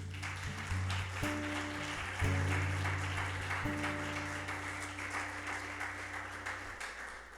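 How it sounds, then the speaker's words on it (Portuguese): A church congregation applauds during a Portuguese-language service, a moderate wash of clapping under a steady sustained hum of organ or keyboard tones that hold and shift in the background. "Você pode dar uma salva de palmas para Jesus?"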